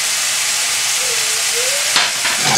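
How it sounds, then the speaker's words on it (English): Salmon bubbles and sizzles in a thick, sticky caramelised sauce with ketchup and mayonnaise for Indonesian sticky salmon, a loud, steady, close hiss with a brief stirring scrape near the end. "Bubbling away, almost like caramelised sugar. And once that's started, stir your salmon into it."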